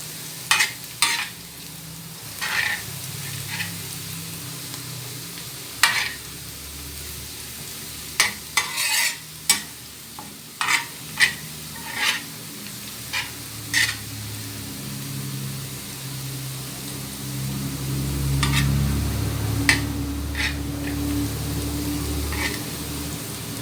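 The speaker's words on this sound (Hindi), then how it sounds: "ज़ीरा और मेथी दाना फ्राई होगा प्याज के साथ में, इसे अच्छे से फ्राई कर लेना है।" Sliced onion with cumin and fenugreek seeds fries in a pan with a low, steady sizzle, broken by sharp scraping stirs of a spoon at irregular intervals, growing louder toward the end.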